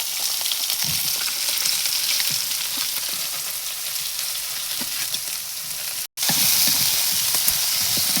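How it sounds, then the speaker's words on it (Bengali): Eggplant pieces sizzle and crackle steadily in hot oil in a pan where fish has just been fried, with occasional scraping stirs, loud and close throughout, with a brief dropout near the end. "দেখেন এবার দিয়ে দিচ্ছে বেগুন।"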